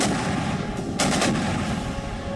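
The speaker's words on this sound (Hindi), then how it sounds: "तस्वीरें बता रही हैं कीव में धमाके बढ़ गए हैं" Gunfire and blasts ring out in war footage from Kyiv, loud and close, with sharp bursts over a dense, rumbling background and no speech.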